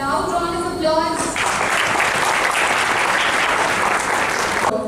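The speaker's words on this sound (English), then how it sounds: "Loud round of applause." Loud applause at a university conference ceremony where flowers are handed to guests, a dense steady roar of clapping that follows a short stretch of voice and music, then cuts off abruptly.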